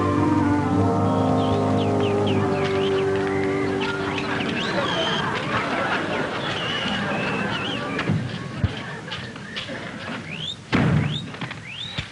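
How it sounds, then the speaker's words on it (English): Bird calls in a 1950s sitcom: high chirps, warbles and honks spread over about twelve seconds, with a sustained tone at the start and talking in the mix. "Bird calls."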